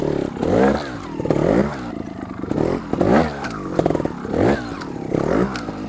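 A trials motorcycle climbs over double step obstacles, its engine surging in repeated revving bursts as the clutch is slipped, each rise and fall close and loud, with occasional clatter of tires against the steps.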